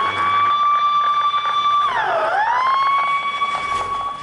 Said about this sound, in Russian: Через несколько секунд во двор въезжает машина спасателей.